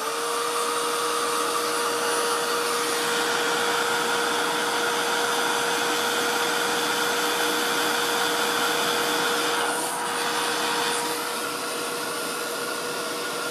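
A heat embossing tool blows with a steady, loud, whooshing hum and a high whine, running continuously without any talk.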